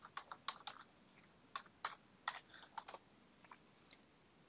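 Typing on a computer keyboard at a desk: a quick irregular run of light key clicks with short pauses between bursts, faint and close, with no voices.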